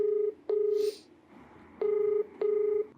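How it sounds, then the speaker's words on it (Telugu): Touch-tone telephone keypad beeps as a number is dialed to call someone, three steady tones of about half a second each with short gaps, clear and close against a quiet background. "నేను కాల్ చేస్తాను ఒకసారి ఆయనకి"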